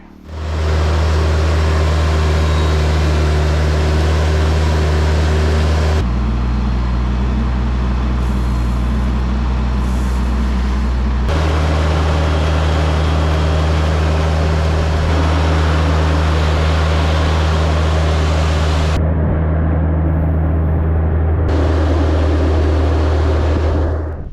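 A tractor works a log cabin building lot off grid, its engine droning loud and steady throughout with shifts in pitch and load as it moves.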